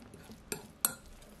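Canned tuna is mixed with salt and pepper in a bowl, making two brief, sharp clicks of a utensil against the dish over a faint, quiet background.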